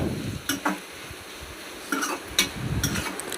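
A spoon stirs chili powder and turmeric into bitter gourd frying in a pan, giving a few short scraping strokes over a low sizzle, close and clear with no voices.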